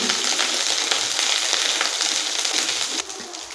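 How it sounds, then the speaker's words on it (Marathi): Crushed ginger and garlic fry in hot oil with bloomed cumin seeds, cooked until reddish for a cluster bean bhaji; a loud, dense, close sizzle that softens slightly near the end, with no voices. "लसूण थोडासा लालसर होईपर्यंत तळून घ्यायचा आहे"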